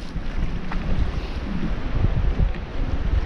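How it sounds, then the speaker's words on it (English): Strong gusty wind buffets the microphone out on open water from a fishing boat during a November musky outing, a steady loud rumbling roar with waves and hull noise beneath, no voices. "It is windier than the gales of winter out here."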